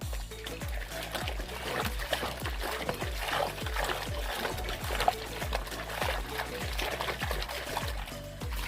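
A stained shirt is washed by hand in plain water, with rhythmic sloshing and splashing repeating roughly twice a second up close, and no talk.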